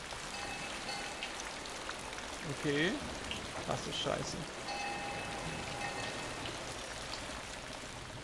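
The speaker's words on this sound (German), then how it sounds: "Und der Regen wird immer schlimmer, bilde ich mir ein." Steady rain falling in the video game Alice: Madness Returns, a constant wash of drops on surfaces throughout, with someone talking briefly over it.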